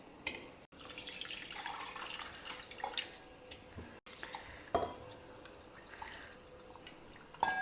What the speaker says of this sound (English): Now we will squeeze it out and extract the juice.